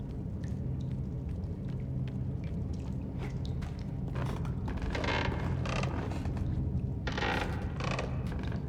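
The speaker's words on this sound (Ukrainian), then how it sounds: "Мені цей скрип не нравиться." Creaking in the horror video game Little Nightmares: a slow, grinding mechanical creak with clicking, ratchet-like textures over a steady low ambient hum, growing louder midway, without talking.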